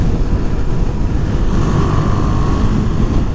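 A KTM Duke 390 motorcycle cruises in top gear at about 5,000 RPM and 50 mph, its steady engine drone blended with heavy wind rush, continuous and loud with no talking.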